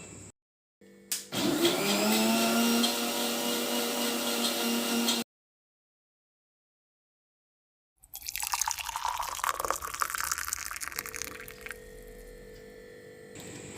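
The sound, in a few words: mixer blending cocoa, jaggery, coffee and milk milkshake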